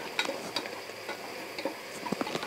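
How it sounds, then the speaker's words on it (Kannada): Onions and mint fried and stirred in a pan for ghee rice, giving faint scattered clicks and scrapes of stirring over a soft, low sizzle. "ಈಗ ಮತ್ತೆ ಚೆನ್ನಾಗಿ ಫ್ರೈ ಮಾಡ್ಕೊಳ್ಳಿ"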